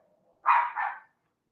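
A dog barks twice in quick succession, a fairly loud, close double bark in an otherwise quiet indoor room.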